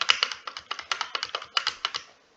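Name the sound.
computer keyboard typing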